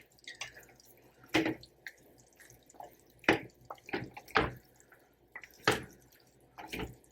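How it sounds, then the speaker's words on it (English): Water is added to a plate of chilaquiles made with salsa verde and salsa roja; several short, splashy drips and pours land in separate bursts, close up and fairly quiet, with no talk. "I added a little bit of water because it looks a little bit dry."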